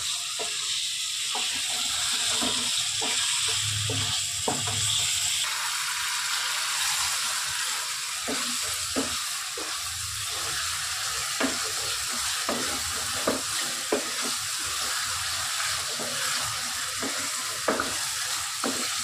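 Chicken sizzling in a hot pan with yogurt for Hyderabadi chicken curry, stirred with repeated scraping clicks of a spoon over a steady frying hiss; close and continuous, no talking.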